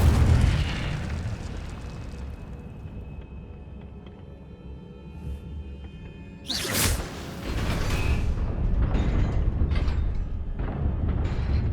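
Incendio fire spell cast in Hogwarts Legacy: a sudden loud whooshing burst of flame midway, preceded by quieter ambient hum and followed by crackling, rumbling fire-like noise.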